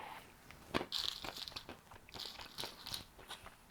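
Sunflower seeds crack open with sharp crunchy cracks and crinkly snaps, several in irregular succession, close and fairly quiet with small chewing-like sounds between them.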